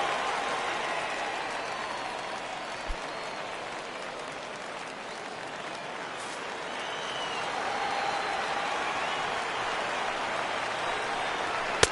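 A baseball stadium crowd in MLB The Show 17 cheers and claps steadily at moderate volume through a spring training game, Tampa Bay against the Yankees, with a broad continuous roar and no speech.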